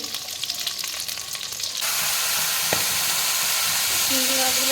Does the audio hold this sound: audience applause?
no